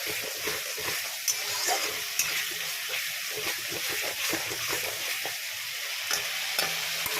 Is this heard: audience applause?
no